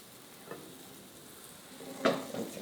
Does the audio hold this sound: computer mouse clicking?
no